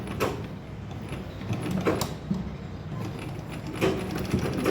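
A sewing machine stitching a small cloth purse, a low mechanical whir at close range broken by a few sharp clunks and clicks, no speech.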